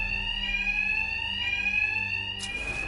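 An alarm in the video game Batman: Arkham Knight rings continuously, loud and close, with a shrill, steady, bell-like tone that changes abruptly near the end.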